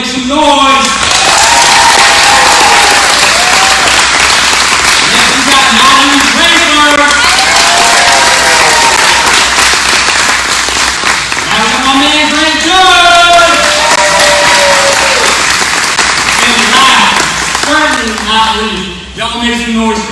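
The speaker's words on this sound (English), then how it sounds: "give them a round of applause" An audience applauds, claps and cheers for dancers at a school awards show, a dense and loud wash of clapping and whoops that runs throughout with voices shouting inside it.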